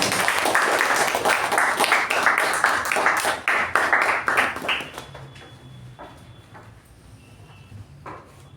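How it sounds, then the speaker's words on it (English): At a Toastmasters club meeting, an audience claps for the first speaker, loud and close for about five seconds before thinning into scattered claps and a quiet room. "let's give a thunderous round of applause for our first speaker, Toastmaster Deepa"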